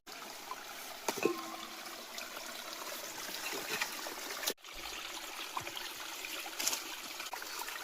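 A steady, faint trickle of running spring water flows continuously, with small splashes and a brief dropout midway.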